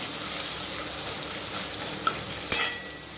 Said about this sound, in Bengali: পেঁয়াজটাকেও আমি দিয়ে দিলাম দিয়ে হালকা হালকা করে একটু ভেজে নেব